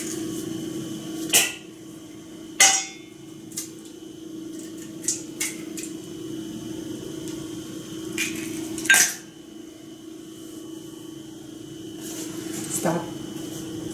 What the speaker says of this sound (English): Next, you add 2 eggs, which I will put in here right now.